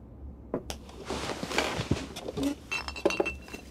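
A glass vodka bottle clinks and rattles in a busy scene, with several sharp glassy taps and knocks over rustling handling noise and a few scattered thuds.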